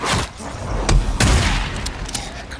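Shotgun blasts ring out in the Days Gone game, several loud heavy shots in quick irregular succession amid ongoing gunfire and booms, up close and dominant.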